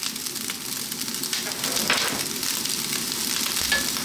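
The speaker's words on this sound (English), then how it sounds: "and then we're going to literally fry the rice for about 4 minutes" Loud, continuous sizzling of cold cooked rice frying in a hot wok, with scraping stirs and bursts of crackle rising and falling close by.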